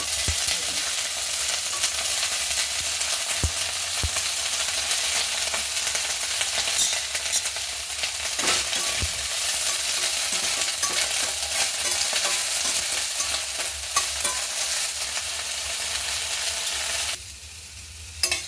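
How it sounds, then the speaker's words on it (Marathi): Broccoli frying in a teaspoon of oil in a kadhai while being stirred: a loud, continuous close-up sizzle with faint utensil scrapes that runs nearly throughout before briefly softening near the end. "आपण अगोदर ही ब्रोकली तेलामध्ये थोडीशी भाजून घेऊ।"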